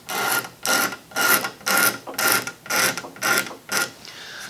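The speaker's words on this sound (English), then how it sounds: "we're going to very carefully scrape off" Leftover glue being carefully scraped off an antique wooden buffet, eight rhythmic rasping strokes, evenly spaced and close, heard alone.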